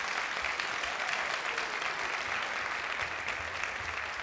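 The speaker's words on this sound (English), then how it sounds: "Can we give them just one more round of applause?" An audience applauds ballet students after a spring after-school performance, a dense, steady wash of clapping from a full room that holds evenly throughout.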